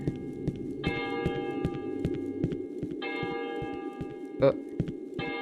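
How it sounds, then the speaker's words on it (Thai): Church-style bell tolling in the horror video game Cry of Fear, long ringing strikes with sustained overtones repeating every couple of seconds over a low droning ambience, with a sharper clank near the end. "ไอ้ใคร ตีระฆังวะ ตีระฆังทำไมอ่ะ"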